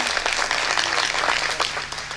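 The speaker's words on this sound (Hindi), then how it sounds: "ताली बजाइए, एनर्जी मिलती है" Dense audience applause at a lively political comedy rally in India, continuous and loud from start to finish with no break in the clapping.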